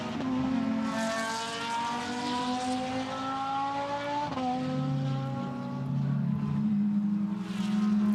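A pale blue Lamborghini Gallardo GT3 race car runs at the Barcelona Blancpain GT Sports Club qualifying, its engine holding a strong steady drone, dipping at a gear change before climbing again, with another engine note joining toward the end.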